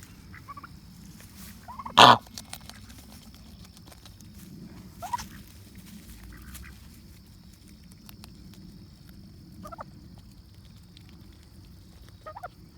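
A loud honk from a goose bursts out once, with a few fainter calls scattered afterward over quiet outdoor background noise.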